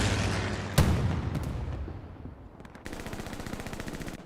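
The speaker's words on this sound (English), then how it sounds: "Strafe run comes through the axis" An aircraft strafing run in the World War II shooter Hell Let Loose: a sharp blast followed by rapid, evenly spaced machine-gun fire, fairly loud and alone, fading briefly before another steady burst.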